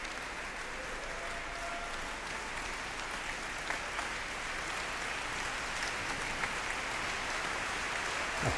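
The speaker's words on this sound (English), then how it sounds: "Applause for the orchestra, I should think so too" An audience at a Blackpool ballroom dance festival gives the orchestra steady, dense applause that carries on evenly throughout, heard from some distance.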